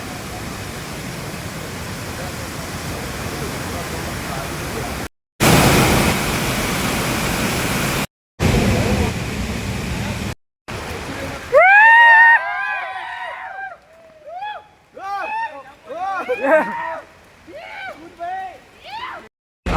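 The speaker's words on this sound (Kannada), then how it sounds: "ಇಲ್ಲಿ ಐತೆ ನೋಡ್ರಿ ಬಂದು ಫೈನಲಿ ಫಾಲ್ಸ್ ನೋಡ್ರಿ ನೀವು ಗೈಸ್" A monsoon-season waterfall near Madikeri and Chikkamagaluru roars as loud, dense broadband noise in several cut segments, then gives way to voices and music.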